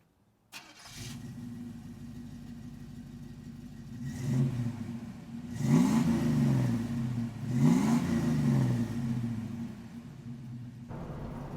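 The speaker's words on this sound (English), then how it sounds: "let's go ahead and jump in the truck and let's take this one for a drive." A 1986 Chevrolet C10 4WD pickup's engine rumbles steadily nearby, revving up twice as it drives, with a low throaty drone throughout and no talking.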